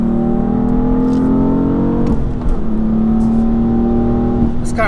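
BMW F80 M3 turbo engine accelerating on a narrow road, a loud steady drone with rising tones through two gears and a quick shift break in between, heard from inside the car.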